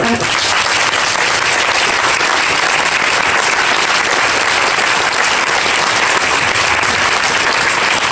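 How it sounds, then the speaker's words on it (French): A large conference audience applauds loudly with many hands, a dense, continuous roar of clapping that holds at full strength from start to finish. "Je pense qu'on peut applaudir très fort."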